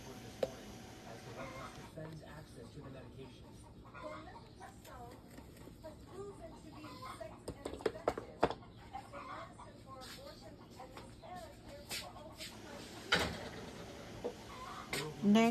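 Chickens cluck faintly in the distance behind quiet indoor background noise, with a few soft clicks and knocks scattered throughout.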